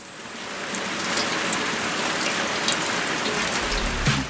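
Rain falls steadily outdoors on a rural farm plot, a dense continuous hiss of drops that grows slightly heavier toward the end.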